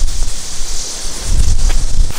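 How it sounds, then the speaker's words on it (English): Gusty wind buffets the microphone outdoors with a steady hiss and low rumbling bursts, growing stronger toward the end. "It is windy out here."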